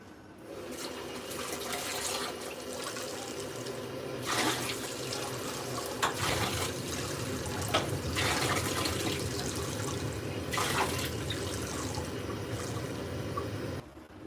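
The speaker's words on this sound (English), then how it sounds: "So I'm going to get some hot water to be added." Hot water pouring steadily from a kitchen tap for cooking couscous, a continuous close rushing stream with a few louder splashes and drips.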